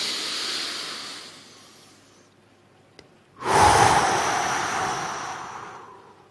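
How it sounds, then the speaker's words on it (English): A person draws a massive deep breath in, a short quiet inhale followed by a loud, long rushing breath that swells and holds, heard close and alone. "Take a massive breath in."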